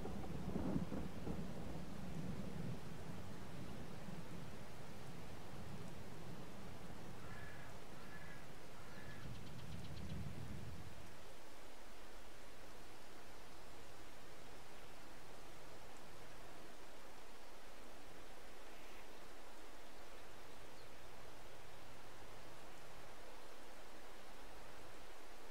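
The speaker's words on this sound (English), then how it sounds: "Oh, and here comes the rain." Rain and rolling thunder in Farming Simulator 22, a steady wash of rainfall with a deep rumble in the first ten seconds that fades into continuous even downpour, no talking.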